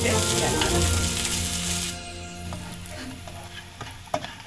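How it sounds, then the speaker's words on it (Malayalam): Coconut pieces roast in hot ghee with a loud, crackling sizzle that drops to a quieter fizz partway through, punctuated by a few light pops and stirs. "ഇതിലേക്ക് ഞാൻ കുറച്ച് തേങ്ങാക്കൊത്ത് ചേർക്കുന്നുണ്ട്. ഇതൊന്ന് നന്നായിട്ട് റോസ്റ്റ് ചെയ്തിട്ട് ചേർക്കണം."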